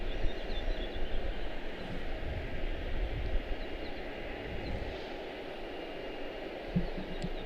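An American Airlines Airbus A321-231 jet at Charlotte-Douglas International airport gives off a continuous broad engine roar with a deep rumbling low end, steady and moderately loud throughout with no voices.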